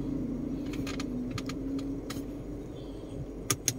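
A Honda CR-V diesel engine idles with a steady low rumble and hum, close by, while a few light clicks and metallic taps sound over it.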